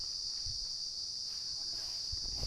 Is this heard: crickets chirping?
yes